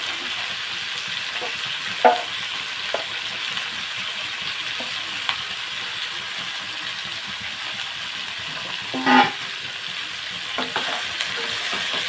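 Broad beans fry in a hot pan with a steady, even sizzle, broken by a few soft clinks and scrapes of stirring.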